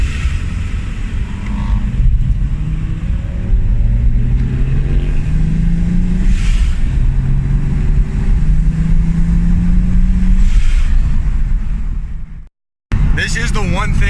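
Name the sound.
car engine while driving on back roads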